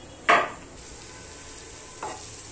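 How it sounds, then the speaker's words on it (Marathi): Vegetables with mutton masala are stirred in a pan: one sharp scrape of the spoon, a faint sizzle underneath, and a second softer scrape about two seconds later. "ह्या भाज्या याच्यामध्ये कालून घेते"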